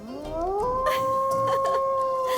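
A man imitates a jackal howling, one sustained rising wail that holds a steady pitch, close and loud, with faint background noise behind it.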